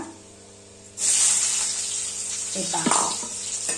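Chopped onion hits hot oil for a methi bhaji and erupts into a sudden loud, steady sizzle that keeps crackling, with a voice briefly speaking over it near the end.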